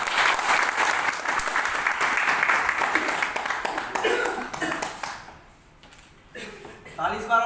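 Loud, sustained applause from an audience at a retail staff training programme near Banthra, Lucknow, dense clapping for about five seconds before it thins, then a brief burst returns at the end.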